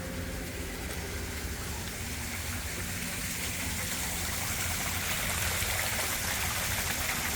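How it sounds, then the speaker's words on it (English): Garden pond waterfall, restarted after a filter backwash, pours in a steady, dense rush of splashing water, constant and fairly close, with no pauses from start to end. "That's going to reactivate the waterfall."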